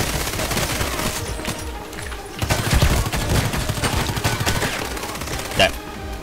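Dense gunfire in the online shooter Contract Wars, rapid overlapping shots and bursts filling the whole stretch, loud and near with distant exchanges mixed in, plus a sharp blast near the end.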